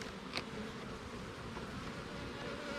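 Honey bees from an open beehive drone in a steady, close, continuous hum, alone with no talking.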